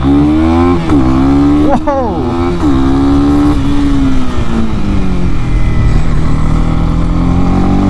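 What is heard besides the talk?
Honda CB300R motorcycle accelerating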